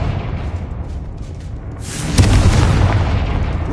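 A Confringo blasting spell explodes in Hogwarts Legacy, a sudden loud boom with a whooshing burst that breaks through a low rumble and then rolls on as a heavy, sustained roar.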